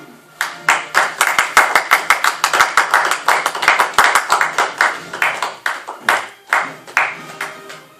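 An audience breaks into applause to welcome Erna Telkamp onto the stage at an amateur theatre performance, with steady, dense clapping close by that runs the whole stretch and thins out slightly near the end.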